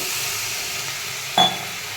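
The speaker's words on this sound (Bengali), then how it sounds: "মশলাগুলোকে ভালোভাবে ভেজে নেব। একটু জল দিব" Ground coriander and cumin with salt and turmeric fry in hot oil in a pan, a steady soft sizzle, then a brief sharp splash and hiss as a little water goes in near the end.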